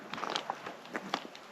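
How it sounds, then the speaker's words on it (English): River ice on the Kasilof River in Alaska cracking and crunching, a string of short, sharp crunchy snaps at moderate loudness with no voices. "If you hear that crunching sound, that's the ice cracking behind me."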